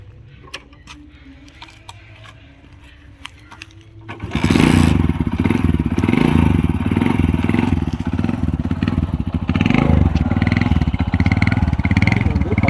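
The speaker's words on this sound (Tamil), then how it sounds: "நான் இன்ஜின் வந்து உங்களுக்கு நான் ஸ்டார்ட் பண்ணி காமிச்சிடுறேன்" A Hero Honda CD 100 motorcycle sits quietly with a few light clicks, then its engine catches abruptly and settles into a loud, close, steady single-cylinder running beat.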